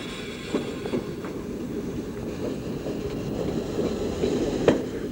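An old Berlin U-Bahn underground train from around 1928 rumbles steadily along the tracks with a low continuous roar, occasional clicks and faint squeals from the wheels, fairly close.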